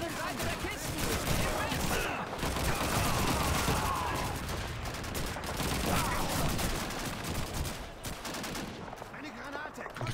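Dense, continuous gunfire from Call of Duty 2 during a hillside assault on mortar teams, rapid bursts and shots layered into a loud, unbroken battle roar across the whole stretch.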